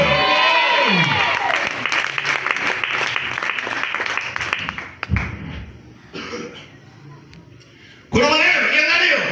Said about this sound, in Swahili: Nisaidie kuitika amina na makofi yako.